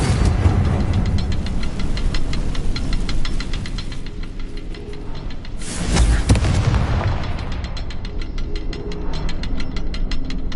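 Explosive Confringo spell blasts from Hogwarts Legacy boom repeatedly amid rapid crackling game effects, with a larger burst near the middle, loud and continuous without speech.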